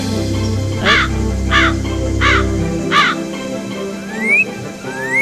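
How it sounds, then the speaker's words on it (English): Four loud caws from a crow-like bird ring out at an even pace in the video game Ghost Dogs of Moon Lake over a low hum, followed by two faint rising whistles. "Oh, I hear a bird."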